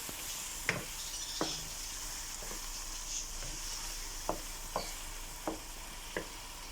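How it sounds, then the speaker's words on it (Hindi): Chicken karahi with fresh coriander and whole green chilies frying in a pan, a soft continuous sizzle punctuated by several sharp spatula knocks as it is stirred, close but quiet with no talk. "अब हम इसको मज़ीद 2 मिनट तक भूनेंगे।"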